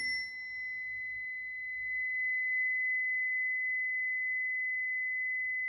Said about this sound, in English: So that's that chime.